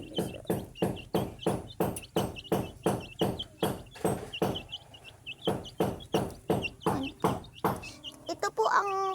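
Baby chicks give faint, high peeps under a loud, regular series of knocking thumps, roughly two per second. A brief burst of louder chirping comes at the end.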